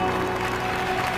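An audience applauds at the closing ceremony of the 4L Trophy rally, a dense continuous wash of clapping throughout the short moment.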